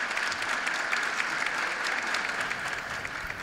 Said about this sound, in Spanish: Les pido un aplauso y los recibimos hacia el doctor.